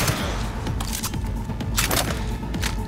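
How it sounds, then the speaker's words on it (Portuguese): Enemy gunfire in the video game Cyberpunk 2077 rattles in dense, loud bursts, with overlapping cracks and heavy thuds forming an almost continuous barrage. "Olha esse cara atirando em mim."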